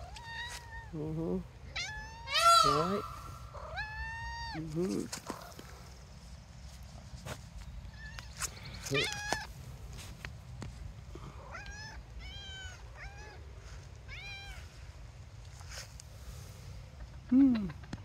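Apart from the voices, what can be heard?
cat meowing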